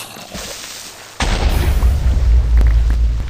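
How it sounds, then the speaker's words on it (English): A Minecraft creeper blows up in a sudden loud boom that cuts in after a quiet moment. A heavy, rumbling roar follows and fades slowly. "Let me get this creeper to explode for you guys."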